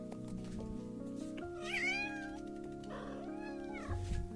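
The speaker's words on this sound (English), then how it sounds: "My cat wants to speak." A cat meows twice up close, a rising-and-falling call followed a second later by a shorter one, over a steady background of music and hum.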